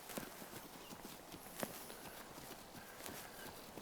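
A young, green mare walks near a fence with steady clip-clopping hooves, each hoof strike crisp and evenly paced over soft ground, heard alone with no talking.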